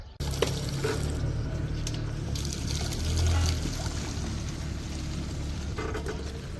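Water pours steadily from a public fountain in Matera, Italy, in a continuous splashing stream, close and fairly loud, with faint background activity around it.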